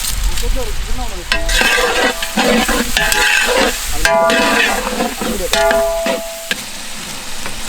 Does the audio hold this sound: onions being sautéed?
yes